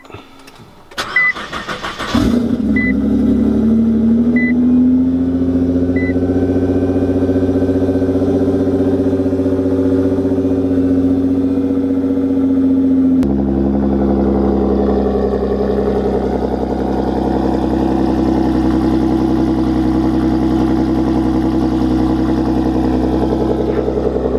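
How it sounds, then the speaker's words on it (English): A Nissan GT-R engine cold start: it cranks briefly and fires up with a loud roar, then settles into a steady, throaty high idle that drops slightly partway through. "let's give you guys a cold start real quick"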